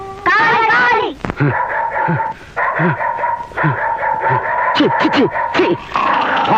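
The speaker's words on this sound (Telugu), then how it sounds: "కుక్కలు" Several dogs bark and yip in short bursts at close range, with a few whimpering cries, mixed in among voices talking and a moaning, wail-like voice at the start.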